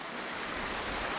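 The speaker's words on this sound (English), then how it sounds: "Babbling brook." A babbling creek at a campsite in the Catskills, a steady close wash of rushing water with no voices.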